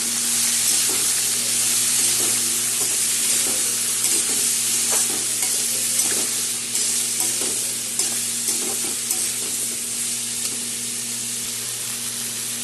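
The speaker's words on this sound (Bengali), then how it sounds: "সব একসাথে এখন ভেজে দিতে হবে" Spiny gourd fries in a pan with salt and turmeric, giving a steady, close sizzle with scraping stirs throughout. The sizzle eases slightly toward the end.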